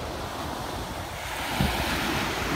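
Ocean surf rolls in at Miami Beach as a steady broad wash of breaking waves, mixed with wind rumble buffeting the microphone, with no voices heard.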